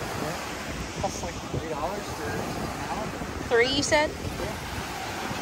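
Waves and wind at Treasure Island Beach in Tampa Bay make a constant broadband wash of surf and gusting air across the microphone, while people talk over it and a bird calls briefly.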